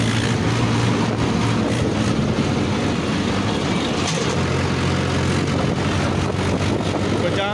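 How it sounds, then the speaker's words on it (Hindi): A Mahindra 585 XP Plus tractor engine runs steadily while sowing chickpeas in a wet field, a continuous loud diesel drone close by with faint background noise and brief talk. "ये महिंद्रा ट्रैक्टर है 585।"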